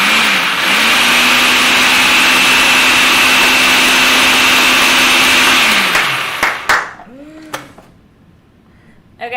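A food processor whirs steadily and loudly, combining flour, sugar, baking powder, salt and cream cheese for strawberry shortcake, then stops near the end, followed by a few brief knocks and handling sounds.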